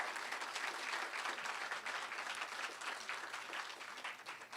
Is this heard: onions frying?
no